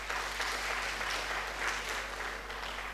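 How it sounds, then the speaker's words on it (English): Audience applause at a communication training session, a fairly faint, even patter of clapping from a modest group of participants, steady for a few seconds over a low constant hum. "We can clap for him."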